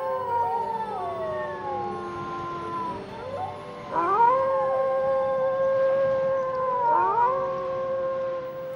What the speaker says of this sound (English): In fact, wolves sing.